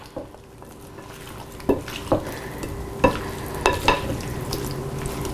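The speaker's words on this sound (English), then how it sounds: "We're going to stir this up." Green beans with garlic are stirred in a pan, several sharp utensil scrapes and clinks spaced a second or so apart over a soft, steady sizzle, up close with no voices.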